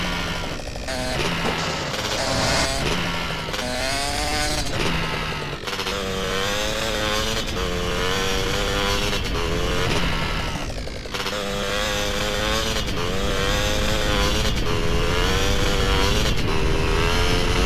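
A vehicle driving in Grand Theft Auto: San Andreas gives a loud, close engine roar that keeps revving up and easing back through repeated gear-like surges, with no voices over it.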